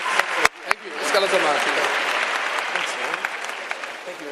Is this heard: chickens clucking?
no